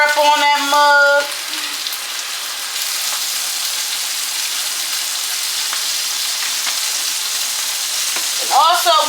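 Steak frying in a pan gives a steady, fairly loud sizzle throughout, with brief tonal squeaks at the very start and end and no talking.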